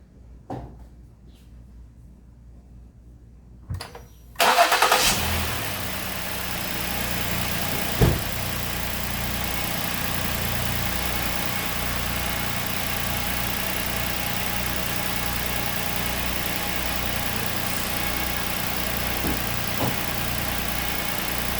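A 2013 Lincoln MKX engine idles with its purge valve hose unplugged, starting after a few quiet seconds and a clunk, then running as a steady, even close hum with a brief knock partway through.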